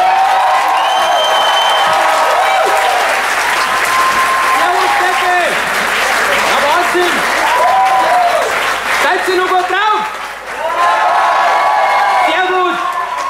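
An audience at a Spiel ohne Grenzen 2017 event in Lauingen gives a loud, sustained round of applause and cheering to welcome a cabaret performer, with shouts and whoops rising over the steady clapping for the whole stretch.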